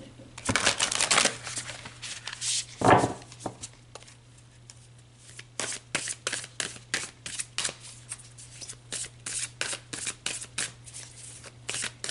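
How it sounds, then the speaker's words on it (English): Oracle deck cards being shuffled by hand in a quiet room, giving a long run of quick riffling bursts and soft flicks, close and fairly loud, with a steady low hum underneath and no talking. "So let's pull a few more cards."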